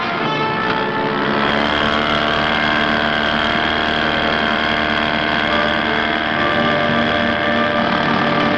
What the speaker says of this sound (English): Listen to that outboard, Captain.